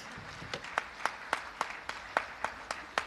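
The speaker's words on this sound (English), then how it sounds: "Can we clap for our boy children?" Audience clapping at a women's celebration event in Canada, a sparse, irregular series of distinct hand claps, fairly quiet and roomy, with no talk over it.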